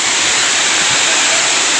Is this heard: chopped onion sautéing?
no